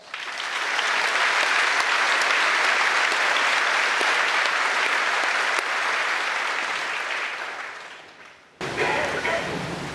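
A large graduation audience in a high school ceremony applauds its sponsors with sustained, loud, dense clapping for about eight seconds, then fades before a brief burst of other sound at the end.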